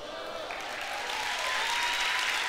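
Church congregation applauding together in a continuous wash of clapping that swells slightly, with a faint tone and some voices underneath.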